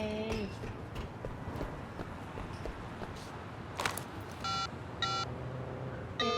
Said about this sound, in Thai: แจ็กกี้บอกว่าโทรหาเอ็ดเลย